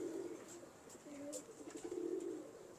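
A pigeon coos softly in low, repeated warbling phrases, faint and steady against a quiet background.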